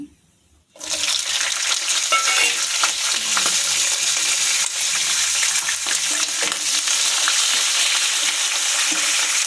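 Urad dal and green chillies frying in hot oil in a pan, a loud, steady, dense sizzle that starts abruptly after a brief quiet moment and holds without a break, with faint stirring scrapes and no talk.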